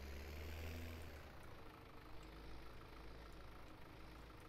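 A tractor engine idles in Farming Simulator 17 as a steady, low, rumbling drone that holds an even level throughout, with no voices.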